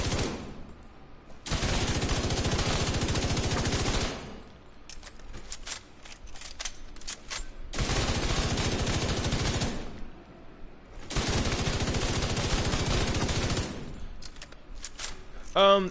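Automatic gunfire from a shooter video game on PS4 comes in three long bursts of rapid shots separated by quieter gaps, with faint clicks and rattles between the bursts.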